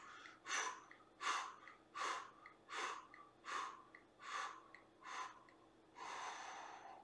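During a neck stretch, a series of about eight slow, close, audible breaths repeat in a steady rhythm, ending in one longer exhale. No talking is heard.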